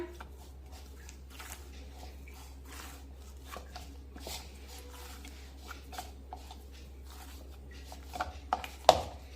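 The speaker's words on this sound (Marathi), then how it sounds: "हे पीठ पुन्हा एकदा मळून घेऊया" Wheat dough for egg parathas is kneaded by hand, giving quiet, soft rubbing and squishing with light knocks, closing with a few sharper taps.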